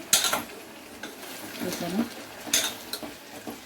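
Spoon scraping and stirring a tomato and coriander chutney mixture in a pan with salt, producing intermittent clinks and soft scrapes at close range, fairly quiet.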